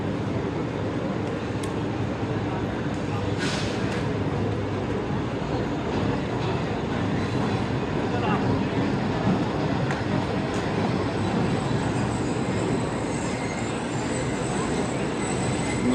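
Train 13 Up pulling into a platform, a steady broadband rumble of wheels and carriages with occasional metallic squeals and hiss, continuous and fairly loud throughout.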